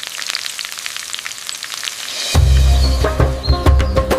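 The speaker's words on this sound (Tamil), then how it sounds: "கடுகு வெடித்து உளுத்தம்பருப்பு சிவக்கும் அருமையான சத்தம்." Mustard seeds and urad dal frying in hot coconut oil in a clay pot, a loud sizzle bursting in halfway through with sharp crackling pops from the seeds.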